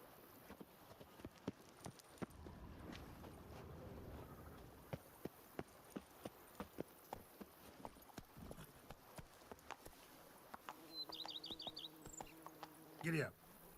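Horse hooves clip-clop at a run in The Witcher 3: Wild Hunt, a steady patter of soft hoofbeats over a low game ambience, with a brief buzzing effect and a swell of sound near the end; no one speaks.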